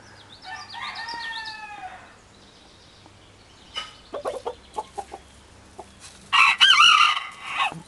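Rooster crowing close by in a drawn-out call, followed by a series of short clucks and another loud crow near the end.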